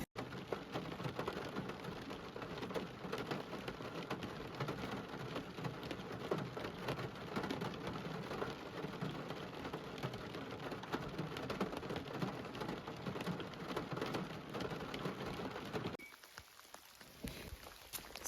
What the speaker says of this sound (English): So the rain has kind of set in for the afternoon